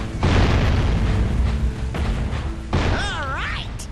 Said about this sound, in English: He's launching bombs at me, and the only way to open these is by bombs itself.